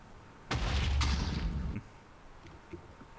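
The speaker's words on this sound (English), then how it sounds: "You can use grenades to destroy your house again." Grenade blast in Minecraft with the GrenadeCraft plugin: one loud booming explosion with a crackling rumble that lasts about a second, then fades to quieter background noise with faint small pops.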